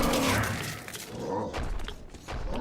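Broken glass crunches and shatters underfoot in Metro Exodus, a continuous loud crackling scrape with a few sharper impacts and low thumps throughout.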